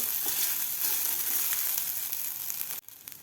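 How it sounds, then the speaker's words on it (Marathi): Sago pearls and vermicelli fry in hot ghee with a steady, bright crackling sizzle that fills the clip, then cuts off sharply near the end, leaving only faint ticks. "साबुदाणासुद्धा एक मिनिटभर आपल्याला तुपामध्ये फ्राय करून घ्यायचा आहे"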